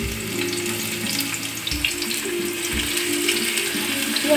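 Chopped onions frying in hot oil in a wok for plain Chinese fried rice, a steady close sizzle with a broad hiss that runs without a break and has no talk over it.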